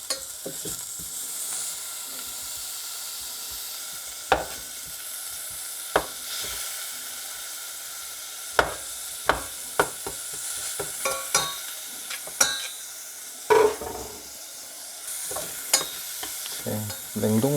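Frozen ground beef stir-fries in a pan for a rice cake soup, giving a steady bright sizzle heard close up, punctuated by a series of sharp clicks and scrapes from a utensil against the pan, with no speech.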